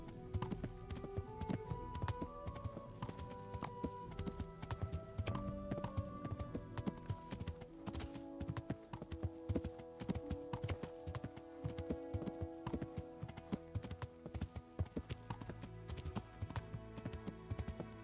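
A horse gallops in Kingdom Come: Deliverance, hooves pounding in a fast, continuous clip-clop rhythm close by, layered over dense game music throughout.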